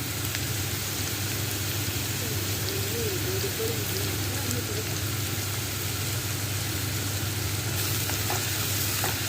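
Curry leaves dropped into hot oil in a home kitchen, giving a steady, even sizzle and fry hiss that runs throughout, close and moderately loud with no talk over it.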